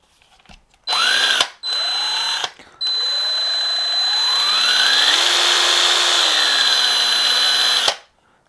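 A Porter-Cable 20V cordless drill runs in three bursts: two short starts, then a long steady whine with its pitch rising and then falling. It is close and loud with no talk, and it cuts off sharply at the end.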